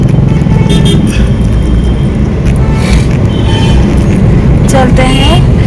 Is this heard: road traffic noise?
yes